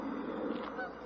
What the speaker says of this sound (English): the little goose who's honking and flying by